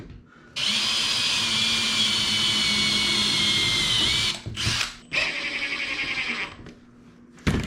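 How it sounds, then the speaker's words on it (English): A power drill whines loudly and steadily through metal for several seconds, then stops, restarts briefly, and runs again in shorter bursts, drilling holes while installing a door sweep. "So I'm just going to go through and slowly drill each one of these."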